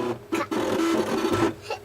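An electronic cutting machine, set to layer 1, runs a short cutting pass on paper, giving a buzzing, whirring motor sound with brief start-stop bursts, close and alone.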